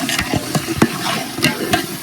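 Potatoes and peas are stirred into a frying pan over a steady hot sizzle, with repeated scraping strokes of a spoon against the pan.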